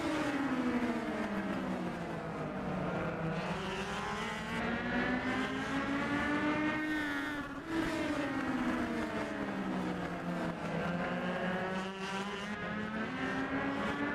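Legend race cars lapping an oval track at Atlanta, several engines droning together in a continuous rising and falling whine as the pack circles, steady and moderately loud throughout.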